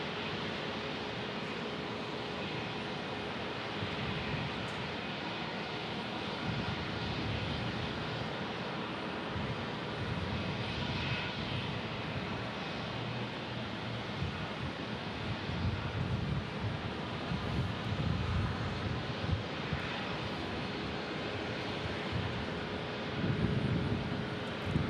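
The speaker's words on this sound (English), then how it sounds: "That's an old A319." An old Airbus A319 airliner at Omaha Eppley Airfield gives a broad, steady engine roar with wind noise, holding fairly constant throughout with no talk.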